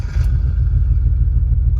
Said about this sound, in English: Now I gotta start the car.